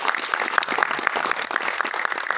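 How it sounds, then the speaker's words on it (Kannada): Audience applause at a talk in a hall, brisk and fairly close clapping from a group of people, steady throughout the brief moment. "ಒಂದು ಜೋರ ಚಪ್ಪಾಳೆ"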